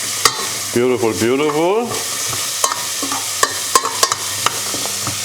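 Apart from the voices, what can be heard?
carrots sautéing in a pan for carrot soup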